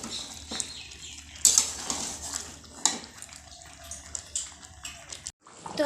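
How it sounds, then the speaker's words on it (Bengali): Water is poured into a pot of simmering spiced meat, giving brief splashing and gurgling bursts mixed with clinks of cookware against a quiet kitchen background. "এবার আমি এতে জল দিয়ে দেবো।"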